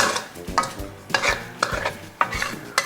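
Whole spices such as cumin and bay leaves are stir-fried in oil for a tofu massaman curry, with a spatula scraping the pan in repeated rhythmic strokes over a steady close sizzle.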